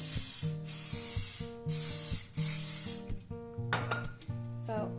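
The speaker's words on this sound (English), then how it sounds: "I spray it with cooking oil" Bursts of aerosol cooking oil spray hiss out in several short blasts into a bundt cake pan, over quiet background music, close to the microphone.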